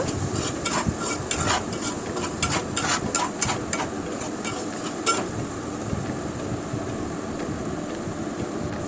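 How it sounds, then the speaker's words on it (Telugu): Potato pieces tossed with turmeric, salt and chili powder in a pan, a dense sizzle with quick rhythmic scraping and clattering strokes through the first half, then calmer frying noise, close and loud without speech. "ఇవి కూడా అంతా బంగాళాదుంపల ముక్కలకి కలిసే విధంగా బాగా ఇలా కలుపుకోవాలన్నమాట"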